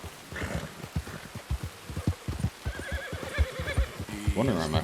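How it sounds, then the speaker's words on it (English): A spooked horse in the Red Dead Redemption video game whinnies loudly near the end, following a run of rhythmic clip-clopping hooves, with the game's ambient sound underneath. "Wondering why my horse is freaking out."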